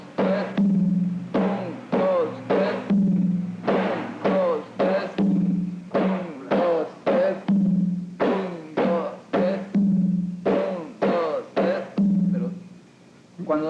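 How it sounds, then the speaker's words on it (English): Hand drum in a Latin percussion demonstration, played in a steady repeating pattern of three basic slap strokes and one open syncopated stroke, close and loud with no talking. "here I play 3 basic strokes and 1 syncopated that goes like this"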